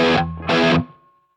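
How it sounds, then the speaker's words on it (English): Two short, loud distorted electric guitar power-chord hits, the rhythm part from under a guitar solo, with a quick pause between them and a fading ring afterward. "The rhythm guitar for the guitar solo is going to sound like this."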